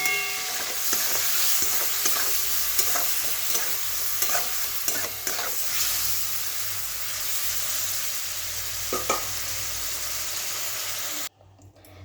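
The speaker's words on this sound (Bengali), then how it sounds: "লবণ হলুদ দিয়ে দেবো, দিয়ে মাছটা হালকা করে ভেজে উঠে নিই" Fish with salt and turmeric fries in hot oil, giving a continuous loud sizzle with occasional stirring clatter, close by, before cutting off abruptly near the end.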